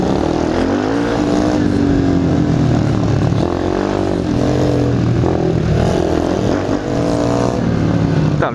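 Motorcycle engine in a video game held in first gear, a steady loud drone that rises and dips slightly as the throttle varies, continuous throughout.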